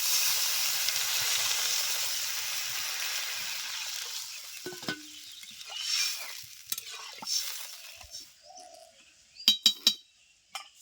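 Water poured onto coriander powder, dried chili powder and spices frying in a pan for a small fish curry, giving a loud sizzling hiss that gradually dies down, followed by scattered stirring clinks and scrapes.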